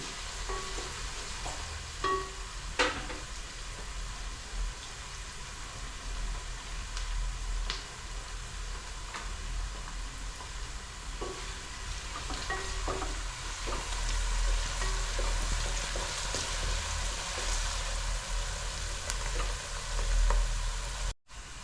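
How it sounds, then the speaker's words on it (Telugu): Chopped onions fry in oil for a fish curry, giving a continuous close sizzle broken by repeated scraping stirs and occasional sharp clicks of a spoon against the pan. "ఇప్పుడు ఉల్లిపాయలు వేగినాయమ్మా"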